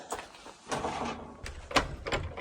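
Someone tries the locked door of a rustic ski hut on the Pacific Crest Trail, giving a few quiet rattles and thuds as it is pushed and pulled but does not open, with no talking.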